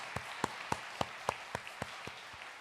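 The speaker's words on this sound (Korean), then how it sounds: "하나님께 영광의 박수 올려드리겠습니다." A church congregation claps together in praise during a worship service, about nine sharp, fairly even claps spaced roughly a third of a second apart, moderately loud in a reverberant hall with no talking over them.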